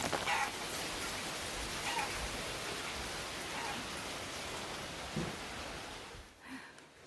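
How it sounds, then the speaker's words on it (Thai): Steady rain pours down in Ban Nong Louang village near Paksong on the Bolaven Plateau in southern Laos, a dense, even hiss that thins out near the end, with no talking. "บรรยากาศฝนตกลินเนาะ อยู่ที่บ้านหนองหลวงเมืองปากซอง"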